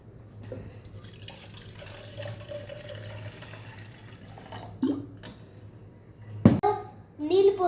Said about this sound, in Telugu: నీళ్ళు పోసేసుకొని స్పూన్తో కలపాలి